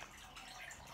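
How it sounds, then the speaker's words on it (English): Water pours from a tap in a steady, faint, hissing rush with no break. "Turn on the water."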